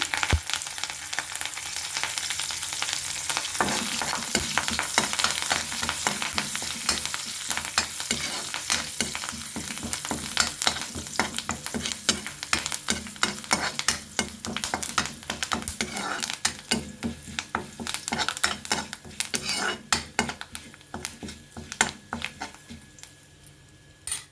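Curry leaves fry in hot oil in a pan, crackling and spattering loudly at first and then settling into a steady sizzle, with the scrape and clatter of stirring throughout.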